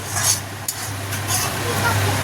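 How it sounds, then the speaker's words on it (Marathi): Poppy seeds and charoli nuts dry-roasting in a pan, a soft steady rustle with light stirring scrapes and a low hum underneath, close by. "खसखस चांगली भाजून घ्यायची त्यामध्ये चारोळे टाकून घ्यायचे आहेत"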